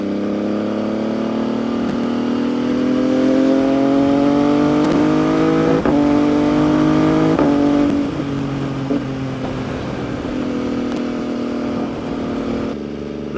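An MV Agusta sport motorcycle on a test ride, its engine revving loud and close with rising and falling pitch through several gear changes, no talk over it.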